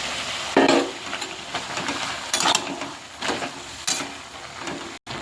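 Pumpkin greens go into a pan with chilli powder, turmeric and sugar and are stirred over the heat, giving a soft sizzle broken by several scraping, clattering stirs against the pan; there is no talking.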